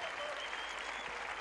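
A tennis crowd in Quito, Ecuador, applauds in a brief, steady wash of clapping, faint and distant.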